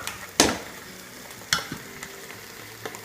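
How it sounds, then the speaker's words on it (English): Portobello mushrooms sizzling in a hot pan with black beans alongside, a quiet steady fry punctuated by a few sharp clatters and scrapes of stirring. "you can hear our portobello mushrooms cooking away"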